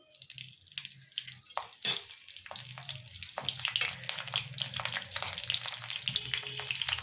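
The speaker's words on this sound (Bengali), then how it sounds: "এতে আমি কাঁচা লঙ্কা ফোড়ন দিয়ে দেবো।" Green chillies tossed into hot oil with cumin for a beet and carrot curry: a faint crackle builds into a dense, lively sizzle with scattered pops and spits, close by and without talk.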